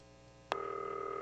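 A telephone in the video game Not for Broadcast starts ringing partway through after a quiet stretch, a sharp onset followed by a sustained electronic ring tone.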